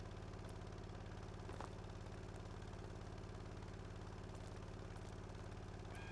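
In the video game Stormworks, an engine idles with a steady, low mechanical hum and faint rhythmic pulsing that holds constant the whole time, quiet and with no voices.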